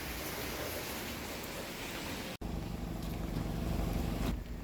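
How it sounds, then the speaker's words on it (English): Heavy rain pours steadily outside on an evening in Dar es Salaam, a dense, continuous hiss and patter filling the background, with a brief cut midway and no talking. "it's past 7 and the rains are still going on and I don't want to be rained on"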